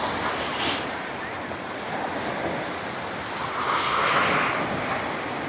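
A rough sea whipped by an eastern wind at a Tall Ships parade of sail: steady roar of surf and gusts buffeting the microphone, loud and unbroken.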